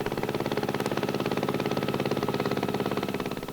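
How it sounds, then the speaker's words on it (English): A 1973 Tinkabi small-farm tractor engine idles steadily, its fast even chugging pulse loud and close throughout with no other sounds. "this tractor is from 1973."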